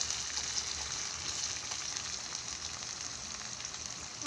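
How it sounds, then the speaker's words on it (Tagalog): Food frying in hot cooking oil, a steady, even sizzle and crackle throughout, fairly quiet and close with no talking. "Luto natin sa mantika. Masili yan"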